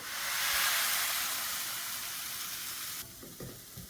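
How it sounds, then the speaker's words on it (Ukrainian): Loud, steady sizzling of batter frying in a pan, which cuts off abruptly near the end, followed by a few soft clunks. "все смажиться, не відходимо, бо все проходить швидко"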